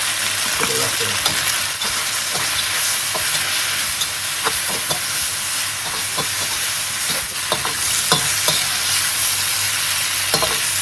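Sizzling belly pork and double chilli being stir fried in a pot, a dense continuous hiss close up, with repeated sharp scraping and clinking of a utensil stirring against the metal.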